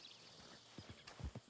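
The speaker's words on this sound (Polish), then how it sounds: "Mamy własnego konia." Horse hooves in Red Dead Redemption 2 clip-clop in a quick short series of soft, close thuds, a few steps heard alone over a faint background.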